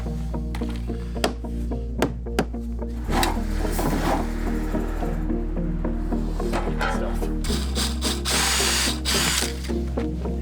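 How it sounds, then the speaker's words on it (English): A power drill whines continuously, pre-drilling screw holes into wood near the edge, shifting pitch as the load changes, with a few sharp clicks and knocks nearby. "I have to pre-drill the ones close to the edge"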